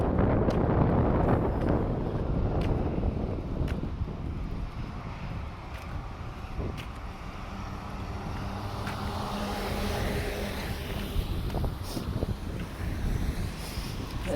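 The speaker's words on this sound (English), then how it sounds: "there's a lot of wind today" Strong outdoor wind during a walk through a city's north end, a steady roaring rush with gusty swells that buffets the microphone throughout, with no talking.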